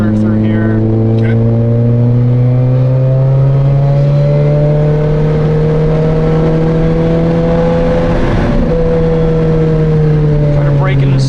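A 2007 Lotus Exige S 220 driving on a track with cones, its engine droning loud and close throughout as revs rise and fall smoothly through the corners.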